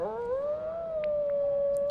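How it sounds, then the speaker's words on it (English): A wolf in Disney Dreamlight Valley gives a single sustained, wavering howl that rises slightly and holds steady, clear and fairly close against a quiet background. "this wolf is trying to make you believe that he is in fact a wolf"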